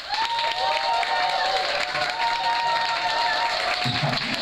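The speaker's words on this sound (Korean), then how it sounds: "지금부터 사진 찍지 말고 박수 함성 치시란 말이에요" Sustained applause and cheering from guests at a child's first birthday party, loud and continuous crowd clapping with a bright tone running underneath, fading near the end.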